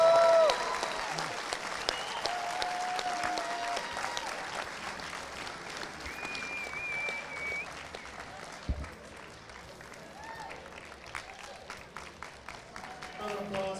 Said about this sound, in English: Round of applause for both our competitors.